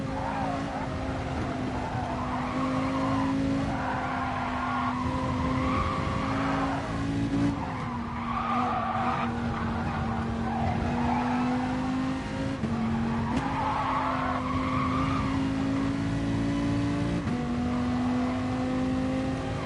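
A race car engine in a racing video game revving high and steadily for the whole stretch, a loud continuous whine that shifts pitch with gear changes, mixed with tyre skid noise.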